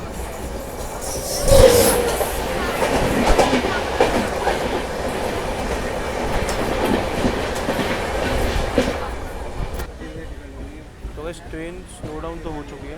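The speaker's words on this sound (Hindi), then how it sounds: "बस ट्रेन हो चुकी है हमारी स्लो डाउन।" The Jallianwala Bagh Express, running from Jalandhar towards Delhi, rattles along the rails with steady clickety-clack and wheel noise heard from inside. The rumble eases toward the end while a voice talks.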